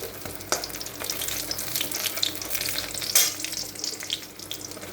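Chalkumro leaf fritters stuffed with a spiced shrimp filling fry in hot oil, a steady close crackling sizzle with occasional sharper pops and a spatula scrape, no voices.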